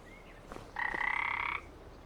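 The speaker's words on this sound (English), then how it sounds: "which is full of froggies and toads." A frog croaks at a pond in the video game Farming Simulator 25: one sustained, buzzing croak lasting under a second after a faint short call, close by over quiet ambience.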